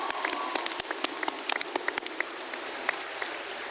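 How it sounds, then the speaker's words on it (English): Audience applause at a Doctor Who event, a dense spatter of close, sharp hand claps running steadily throughout at moderate loudness, with no talking. "So give yourselves a round of applause."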